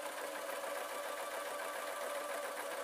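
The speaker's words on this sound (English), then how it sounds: "I'm going to continue the line of stitches that onto this." A sewing machine runs steadily while stitching fabric for a simple peg bag, a continuous close mechanical whir with a rapid even rhythm and no pauses.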